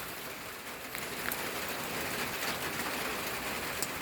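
Steady rain falling outdoors, a dense continuous hiss of drops on surfaces throughout, even in loudness and fairly close, with no speech.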